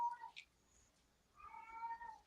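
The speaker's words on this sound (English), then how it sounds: "a very, very angry cat" An angry cat lets out drawn-out, whining meows, one short cry and then a longer, rising complaint after a pause. The sound is fairly faint and there is no talking over it.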